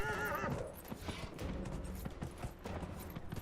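A horse gallops in Dragon Age: Inquisition, with steady clip-clop hoofbeats running through the whole stretch and a brief whinny near the start, loud and close in the game mix.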